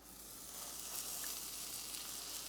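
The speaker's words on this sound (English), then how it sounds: "Listen to the sizzle." Steady, close sizzling of buns toasting in a hot cast iron pan, a continuous crackling hiss with no talking.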